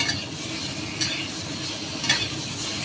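Paneer frying in butter in a pan gives a steady close sizzle, with occasional stirring scrapes and light clinks across the short stretch and no talking.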